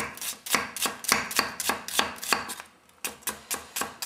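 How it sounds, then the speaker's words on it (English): Knife chopping onions on a cutting board for San Cocho soup, a close run of crisp, evenly spaced cuts with a brief pause midway before the chopping resumes, with no talking. "I'm cutting these up just for you, pal."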